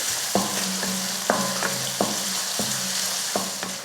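Minced garlic cloves and onion sautéing in oil in a pan, a steady close sizzle broken by several sharp stirring scrapes and clinks of a spoon against the pan.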